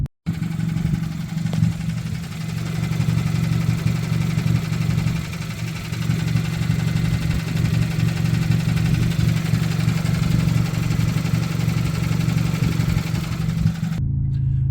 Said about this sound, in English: The engine ticks.